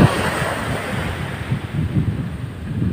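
Strong sea waves and gusting wind heard from a small paddled boat on a dark night sea, a steady loud rush of surf and buffeting wind noise with no talk.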